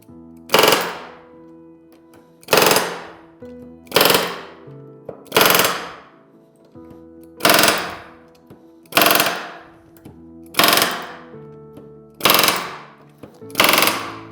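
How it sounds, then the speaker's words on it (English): A pneumatic rivet gun hammers aircraft rivets on an RV-10 aileron in eight sharp, rattling bursts, each about a second long, spaced evenly with quiet gaps between them and heard up close. "I just go through every single rivet, working from the middle outwards, and smash them the rest of the way"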